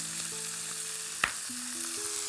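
Squid and chorizo fry in a hot pan with a steady, even sizzle, and a single brief clink sounds partway through.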